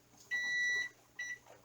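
A kitchen timer goes off beside a pressure canner, sounding one long high electronic beep followed by a second shorter one, clear against a quiet room.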